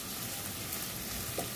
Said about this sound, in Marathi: आलं, लसूण, कोथिंबीर, कढीपत्ता ह्याची पेस्ट करून घेतली आहे ना, ती घालून घेऊया. व्यवस्थित असं परतून घेऊया.